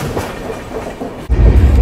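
An Ahmedabad–Mumbai express train passes close by, its steady rumble and rail noise building abruptly into a louder, heavier roar partway through, with no talking.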